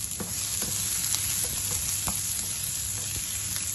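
Garlic and onion frying in a pan for chicken biryani sizzle steadily up close, broken by a few sharp scrapes and taps of stirring.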